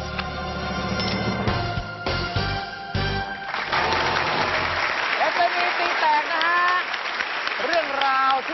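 A Thai television game-show audience cheering and clapping, bursts of applause building into sustained loud clapping, with voices and some music-like tones over it.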